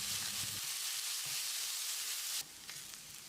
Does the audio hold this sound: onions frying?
yes